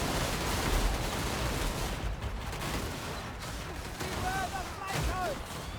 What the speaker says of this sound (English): we are firing at them with both the free companies